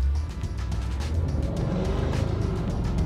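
Bentley Continental GT being driven, its engine a low, steady hum with road and wind noise, moderately loud and unbroken, with no talking.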